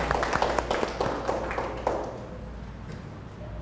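Students in a classroom applaud a group after its presentation, a brief burst of scattered hand clapping that fades out within a couple of seconds into quiet room tone.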